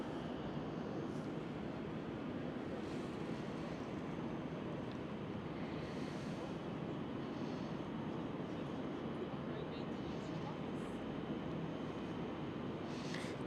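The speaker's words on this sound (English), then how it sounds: "Next one up is another KLM landing onto runway 27." KLM Boeing 737 airliner landing on runway 27 at Schiphol, a distant steady rumble of jet engines and wind-like rush, fairly faint and unbroken, with no talk.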